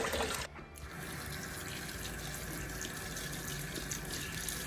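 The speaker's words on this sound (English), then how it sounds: "So I'm just going to pop some warm water in his feed for him." Warm water pours from a tap into a horse's feed in a stable, starting with a short burst and then settling into a soft, steady trickling fill, faint and continuous without talk.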